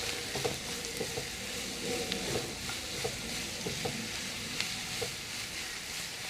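Onions sautéed in a pan until golden for a fish molee, giving a steady broadband sizzle with scattered soft scrapes of a stirring spoon, close and continuous without talk.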